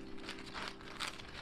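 Soft crinkling of a sealed plastic bag around a mattress, brief rustles over a faint steady hum, quiet and close.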